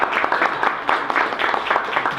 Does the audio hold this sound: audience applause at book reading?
yes